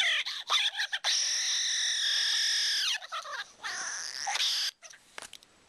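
A Nintendo DSi sound recorder plays a voice through its parakeet effect, turning it into high, warbling chirps that come in short bursts and longer sustained squeaks, heard close and alone.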